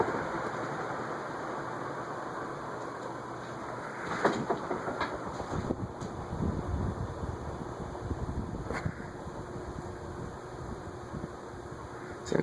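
A 1977 SMC industrial ceiling fan spinning down, giving a steady whirring drone with a faint high whine and a few soft clicks and knocks throughout, nearby and fairly quiet.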